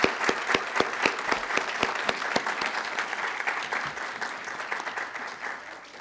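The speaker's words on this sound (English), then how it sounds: "Let's give this group a big round of applause for all their hard work" At an adult education graduation ceremony, the audience applauds the graduates; a few sharp, loud claps stand out near the front of a broad, steady wash of clapping that slowly fades toward the end.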